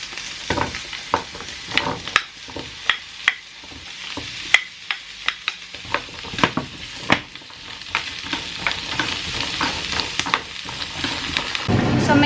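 Carrots frying in a hot pan, a steady sizzle that swells over the clip, broken by frequent sharp clinks and scrapes of a utensil stirring against the pan at close range.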